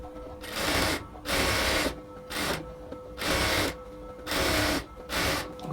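A sewing machine runs in bursts while lock-stitching the waist seam of a women's XL dress top. Each burst is about a second of fast mechanical whirring, with short pauses between, close and loud, with no talking.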